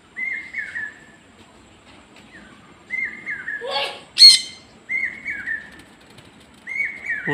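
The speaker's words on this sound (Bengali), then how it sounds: "পুরো একসঙ্গে পায়রা উঠছে।" Madras pigeons in a flock lift off together, with short bursts of wing flapping and a sharp clatter mixed among repeated whistly chirps and squawks, fairly close and clear, with no talking.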